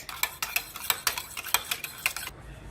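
Pancake batter being whisked in a bowl, with a rapid run of light, sharp clicks and taps of the utensil against the sides, close and fairly quiet, stopping abruptly at the end.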